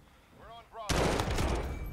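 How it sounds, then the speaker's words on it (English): A sentry gun in Call of Duty Modern Warfare opens up with loud, sustained rapid automatic fire right after a brief voice. "The sentry gun just kills people so quick."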